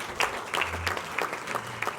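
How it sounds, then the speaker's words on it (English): Audience applause at a Manatee School District event at Tiger Bay, rather faint and sparse, with scattered individual claps standing out above a soft background. "please, a huge round of applause for Charles Clapsaddle and the METV staff"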